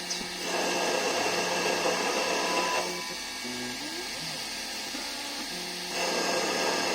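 An Emco Compact 5 CNC lathe cuts metal with a steady mechanical whine and hum. The pitch and level shift in stages as the cut changes, with a quieter stretch in the middle before the louder tone comes back.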